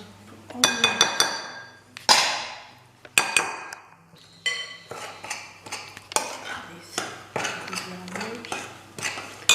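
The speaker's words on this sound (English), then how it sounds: "Mix it until well incorporated." Chocolate hazelnut cake batter being mixed in a bowl, with utensil clinks and scrapes against the bowl coming in a steady, repeated rhythm, close and moderately loud.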